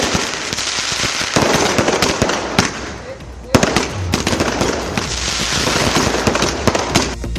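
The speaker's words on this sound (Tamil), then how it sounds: "மும்பையில் உள்ள சிவாஜி பூங்காவில் கண்கவர் வான வேடிக்கை நடைபெற்றது" Diwali fireworks display at Shivaji Park in Mumbai, with dense rapid crackling bursts and pops going on throughout, loud and continuous with a brief lull midway, crowd noise underneath.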